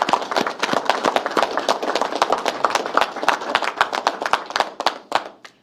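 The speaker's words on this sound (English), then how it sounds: "I think that's worth a round of applause" A press conference audience breaks into applause: loud, close, distinct individual claps from a modest group, irregular and lively, tapering off toward the end.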